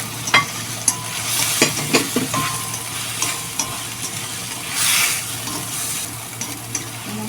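Garlic for udon noodles with shrimp is stirred in a hot pan, giving a soft steady sizzle broken by sharp clinks and scrapes of the utensil against the pan, with no talking.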